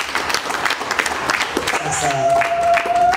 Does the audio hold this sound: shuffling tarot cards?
no